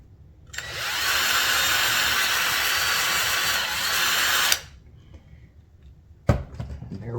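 A power drill bores a hole into a wooden box to a tape depth marker, making a loud, steady whir for about four seconds before stopping abruptly, followed by quiet handling noises and a sharp knock near the end.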